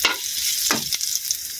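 Ginger hits hot oil in a wok for Chinese-style adobong kangkong, a bright crackling sizzle with a couple of quick stirring scrapes, close and alone.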